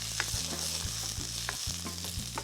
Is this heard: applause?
no